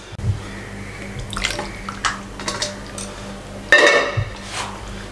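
Chicken white handi being dished out from a pot into a serving bowl, with a spoon clinking and scraping against metal in a few scattered knocks, plus a louder clatter near the end, close by and without talk.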